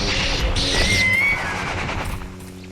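A horse in the video game Sacred 2 gives a short, rising, whinny-like cry amid clashing combat noise, brief and fairly loud with no talk over it.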